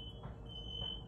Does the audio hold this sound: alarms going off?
yes